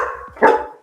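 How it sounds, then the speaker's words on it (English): A pet dog lets out a sharp, loud bark up close in a house, followed by a short whimpering yip, all within under a second. "Sorry guys about my dogs."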